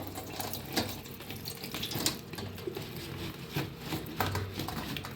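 Turmeric-yellow salted mango pieces for pickle are poured into a colander set over a basket, with a steady wash of splashing, draining water lasting throughout, moderately loud and close, with no talking.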